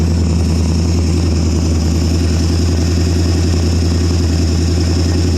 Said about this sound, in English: Well, the engine don't sound too bad right now.